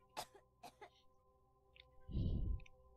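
A character coughs twice in Vampire: The Masquerade – Bloodlines, two short sharp bursts near the start over a low game hum, then a louder rumbling thud at the end.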